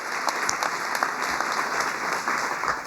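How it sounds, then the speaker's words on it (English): Sustained applause from an audience at a community impact awards ceremony honoring award recipients and nominees, a dense, steady patter of many hands clapping throughout. "Could we have one more round of applause for that?"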